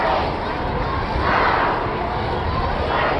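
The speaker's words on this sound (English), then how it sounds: "People are raising their voices." A protest crowd at Union Square in New York City fills the air with a dense, continuous roar of raised voices, loud and unbroken.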